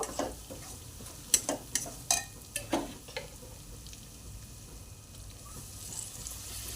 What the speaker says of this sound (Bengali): একটু জল দিয়ে দিলাম, দিয়ে এটা গ্রেভি তৈরি করব।